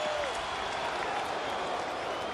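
A Yankee Stadium baseball crowd on its feet applauding and cheering late in a Cubs at Yankees game, a steady wash of clapping and crowd noise throughout the brief moment.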